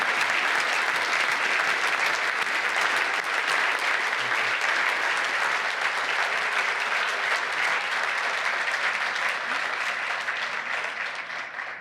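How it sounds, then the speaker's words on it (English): An audience applauds Dr. Wayne Webster, newly announced 18th President of Albion College, with a steady, dense crowd of clapping hands that holds strong for about twelve seconds before starting to thin and fade at the very end. "Let's give another round of applause for Dr. Wayne Webster, the 18th President of Albion College."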